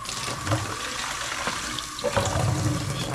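Hot water runs from a tap in a boarding house, a continuous close splashing stream that stays fairly quiet and steady, with a few small knocks and shifts in the flow.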